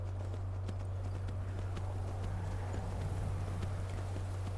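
Steady clip-clop of horse hooves at a brisk trot in the video game Skyrim, over a constant low hum, the footfalls evenly paced and moderately close.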